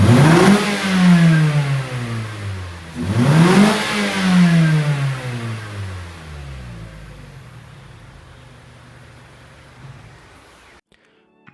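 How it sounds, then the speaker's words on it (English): A Mazda 3 Sport on its stock exhaust revs twice, each rev rising sharply and then falling away, loud and close. The engine then settles into a steadier drone that fades off. "let's go ahead and roll a clip of the actual stock exhaust"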